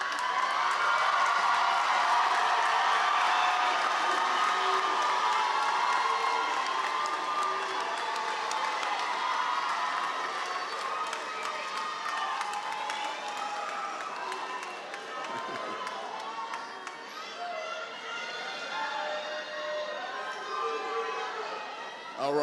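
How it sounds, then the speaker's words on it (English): A large crowd at a 2024 high school arts commencement ceremony applauds and cheers for over twenty seconds. The dense clapping and whoops are loud at first, then ease slightly while staying continuous. Scattered voices mix into the noise. "give your village a round of applause"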